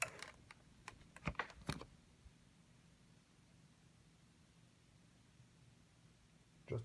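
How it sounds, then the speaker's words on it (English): Internal board of a Samsung TV that has no power, clicking as it is plugged in: a few sharp clicks near the start, then near-silent hum, then one more click at the very end. "Just a simple click."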